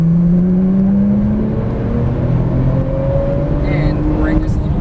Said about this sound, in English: squeeze the throttle other way, squeeze that throttle again